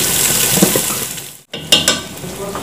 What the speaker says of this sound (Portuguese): voltei para mim pôr a calabresa também para fritar